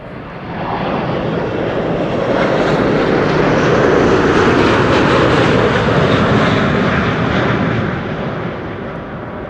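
A KLM widebody airliner arriving at Amsterdam Schiphol Airport roars loud and close, its engine noise swelling to a steady broad rumble and easing slightly as it passes, with no talk over it.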